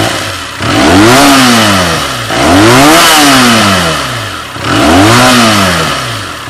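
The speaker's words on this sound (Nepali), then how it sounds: "यसको अब इनलाइन 2 इन्जिन हो तपाईको यसको साउन्ड पनि एकदम राम्रो आउँछ" Benelli 302S motorcycle with an inline-two engine revving hard three times in a row, each blip rising and falling in pitch, loud and close with no talk over it.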